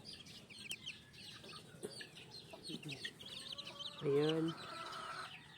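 Chickens in a cardboard box on a gamefowl breeding farm, one chick with a string tied to its foot: soft, scattered peeps and clucks with a louder call near the end, under a quiet voice.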